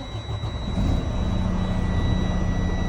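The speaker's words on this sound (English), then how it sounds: "we're just gonna clutch in and start the truck." A manual-transmission truck engine cranks and catches, rising at once into a loud steady idle that carries on close by with no talking.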